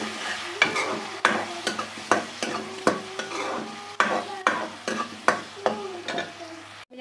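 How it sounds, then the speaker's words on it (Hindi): Ginger garlic paste is stirred into frying onions in a pan, with a soft sizzle under repeated sharp scrapes and clinks of a spoon at an uneven rhythm, close by. "यहाँ पर हम 1 खाने का चम्मच लहसुन अदरक का पेस्ट शामिल करते हैं, 1 से 2 मिनट चलाएंगे।"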